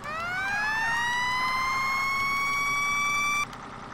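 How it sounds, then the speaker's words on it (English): A fire truck siren in the Farming Simulator 17 game winds up in a rising wail and holds at a loud, steady pitch for about three seconds before cutting off abruptly. "Sirens."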